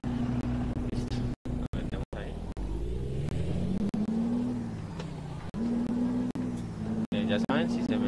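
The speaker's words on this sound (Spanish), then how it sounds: "Esperemos un momento aquí el tráfico." Road traffic passing on the Aratoca–Pescadero route, a steady engine rumble and drone of vehicles close by, with a brief dropout or two and someone talking over it.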